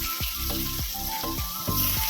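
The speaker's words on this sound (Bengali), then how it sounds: "পেঁয়াজটা একটু লাল লাল করে ভেজে নেবো।" Onion fries in mustard oil with whole cumin and garam masala, a soft crackling sizzle broken by a few short sharp pops, close and fairly faint.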